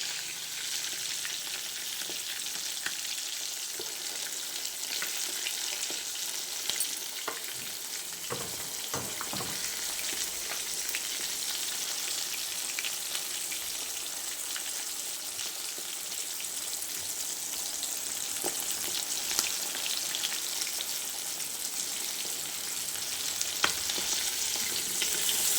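Vanjaram fish slices fry in oil in a pan, a constant close sizzling hiss that runs unbroken for a long stretch, with a few light clinks and no talking.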